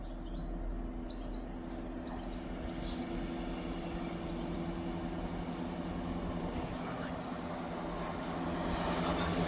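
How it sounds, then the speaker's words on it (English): ScotRail passenger train on the Dundee to Edinburgh Waverley service passing through near Dalmeny and North Queensferry, a steady rumbling roll with faint wheel squeal building slightly toward the end, heard from trackside with no talk. "Passing through now is the 1653 ScotRail service from Dundee to Edinburgh Waverley"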